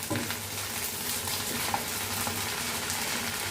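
Ginger and fresh curry leaves fry in a pan for a carrot coconut curry, making a steady, close hiss of sizzling oil with faint utensil scrapes and no talking.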